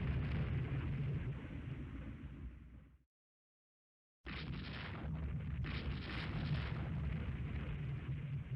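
Heavy naval gunfire and shell impacts in the naval warfare game Rule the Waves 2, where a 14-inch shell strikes a warship, heard as a loud rumbling barrage that cuts to silence, then resumes with fresh blasts.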